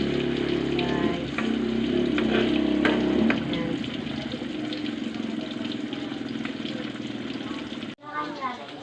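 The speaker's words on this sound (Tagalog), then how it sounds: "Kumukulo-kulo na ang mantika." Food frying in bubbling hot cooking oil, a steady close sizzle and crackle throughout with stirring scrapes, ending in a brief cut and a short burst of louder noise.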